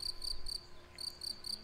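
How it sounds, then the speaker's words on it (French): A cricket chirps nearby in short, evenly spaced high trills, three pulses, a brief pause, then three more, faint against a quiet background. "Vous entendez le grillon là, il est pas loin lui."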